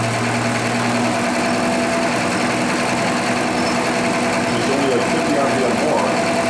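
An Oldsmobile 442 W-30 engine idling at about 620 RPM on a distributor test stand, a loud steady low drone with a constant hum, while someone talks over it.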